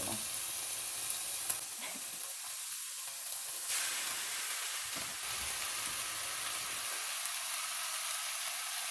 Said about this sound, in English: Now let's add in our noodles to our vegetables, and then we will add the sauce in too.